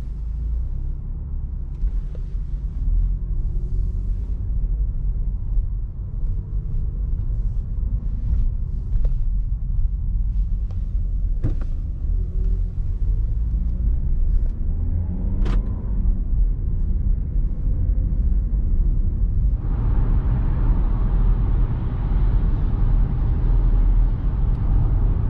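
A Lexus RX300 drives steadily during a fuel consumption test, a continuous low cabin rumble of engine and road noise with a few faint clicks and a rise in tire hiss near the end, no one speaking.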